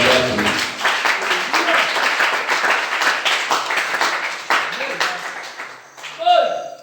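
A church congregation at a Wednesday worship service applauds in a steady stream of claps that fades toward the end, with voices heard alongside.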